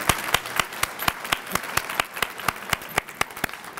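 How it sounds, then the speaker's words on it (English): Applause from a retiree health workshop audience honoring the event organizer: a moderate room of sharp, fairly sparse claps, about four per second, steady and close with no voices over it. "give her a big round of applause for putting this event together"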